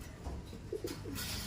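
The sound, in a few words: white flight racing pigeon cooing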